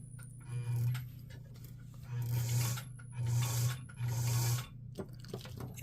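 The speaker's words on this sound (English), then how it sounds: "I'm going to push on the pedal here." A White zigzag sewing machine winds a bobbin in four steady whirring runs, each a low motor hum lasting under a second, separated by short pauses filled with faint mechanical clicks and light handling noise.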